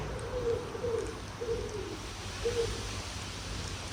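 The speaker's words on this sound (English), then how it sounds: "I think I could hear the owl as well." An owl hoots outdoors on a sunny day, giving a few soft, low hoots spaced about a second apart over quiet background ambience.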